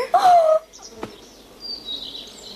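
A dove in an animated Pinocchio story gives a short, bright call at the start, followed by a sharp crack and faint rustling.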